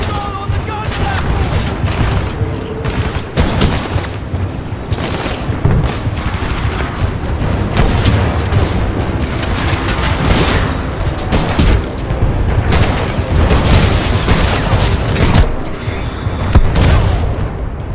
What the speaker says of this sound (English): we can't move up while those guns are firing